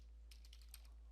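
Quiet keystrokes on a computer keyboard, a quick run of about six light taps entering a command, heard alone over a low steady electrical hum.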